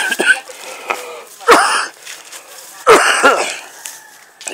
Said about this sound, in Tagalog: Inuubo pa tayo rito.